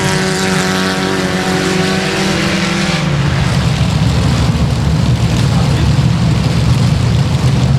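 4-cylinder race cars roar off the start of a heat race at Boothill Speedway, a loud, dense wall of engine noise that holds steady and builds as the pack accelerates, with no talking.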